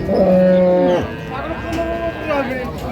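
Cattle, including milk cows and calves, moo at the Raniganj livestock market in Dinajpur, with one long, close low call followed by a fainter second moo over murmuring market background.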